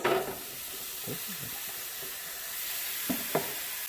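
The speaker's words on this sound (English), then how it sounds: "Put our seasoned fries." Seasoned French fries going into the preheated basket of a Cosori 5.8-quart air fryer: a rustle and clatter at the start, then a steady airy hiss from the fan with a couple of light knocks near the end.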